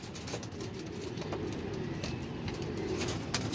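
Pigeons in a backyard loft setup with adult pairs and chicks, soft low cooing and rustling close by over a steady background hum, with no talk.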